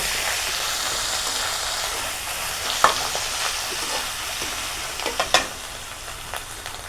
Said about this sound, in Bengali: কাঁচামরিচ বাটা একটু, আর একটু দেব মরিচ বাটা। এখন এগুলো হালকা একটু কষিয়ে নেব।